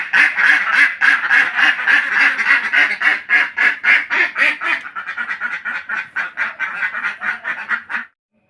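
A flock of domestic ducks quacks continuously and loudly at a gate, dense overlapping calls close by, settling into a rapid rhythmic quacking before stopping abruptly.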